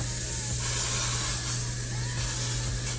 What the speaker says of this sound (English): I'm going to spray my hair.